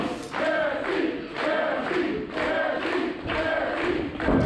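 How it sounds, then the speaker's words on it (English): Wrestling crowd at a live hybrid wrestling event chanting a wrestler's name in a steady repeated rhythm, roughly one chant every second, loud and full with cheering throughout. "This crowd is definitely behind Jesse James. You could hear him saying, Jesse, Jesse."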